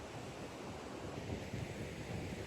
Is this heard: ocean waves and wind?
yes